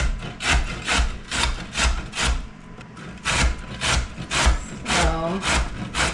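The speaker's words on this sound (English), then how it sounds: "Now we're just going to grate up some carrot." A carrot rubbed over a grater in a home kitchen, loud rhythmic rasping strokes about twice a second, with a brief voice partway through.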